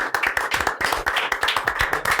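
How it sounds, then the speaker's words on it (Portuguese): Brisk clapping from a podcast audience, steady and loud, a burst of applause with rhythmic slaps and no talking. "A salva de palmas"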